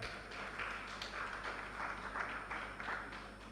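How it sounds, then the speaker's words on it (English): Conference audience applause for sponsors, a steady patter of many hands clapping, faint and distant in a large hall. "sous vos applaudissements, s'il vous plaît"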